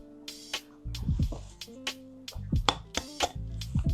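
Eggs cracked one after another into buttermilk, giving a series of sharp close taps and cracks followed by soft wet plops, with bowl clinks between them.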